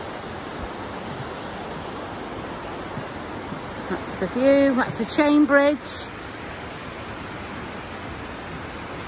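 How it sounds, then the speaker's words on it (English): River Dee flowing through Llangollen, Wales, near a chain bridge: a steady broadband rush of water runs throughout, with a person speaking briefly over it midway. "Gorgeous river in Llangollen."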